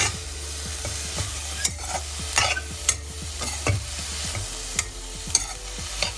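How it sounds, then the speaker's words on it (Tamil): Fresh coriander leaves sautéing in a pan for thokku, a steady low sizzle with repeated scraping strokes of a spoon stirring at an irregular pace, close and alone with no talking. "எல்லாமே நல்லா வதக்கிட்டுருக்கோம்."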